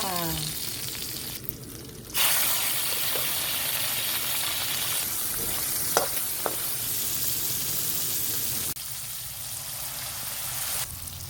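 Onion and garlic sauté in a pan with a steady near sizzle and hiss, broken by a few clinks and stirring knocks, while someone talks in the background.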